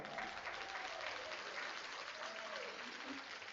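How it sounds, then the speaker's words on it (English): A conference audience at a speaker event applauds in a steady round of clapping, with faint voices mixed in underneath. "I'd love to give her another round of applause."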